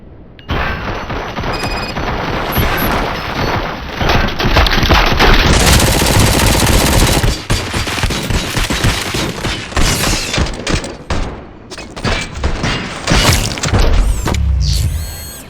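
Sustained automatic gunfire from RoboCop: Rogue City, loud and close, rolling in dense bursts with booms and crashing debris for most of the stretch before easing near the end.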